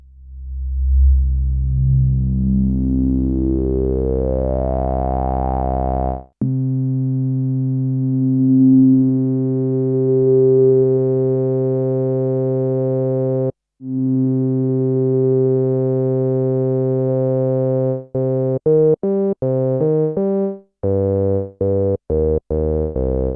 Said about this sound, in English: Let's stick the resonance up and put it on low pass on the OB6.